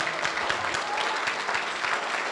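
A church congregation at a convention claps in sustained, dense applause that stays steady and fairly loud throughout, with no voices standing out.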